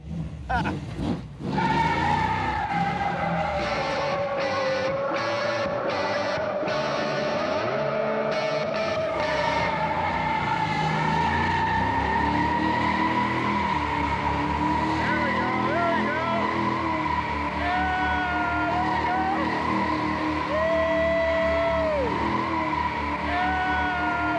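A 1975 AMC Gremlin does a burnout in third gear, engine roaring steadily at high revs while the spinning tyres squeal continuously for a long stretch, loud and close.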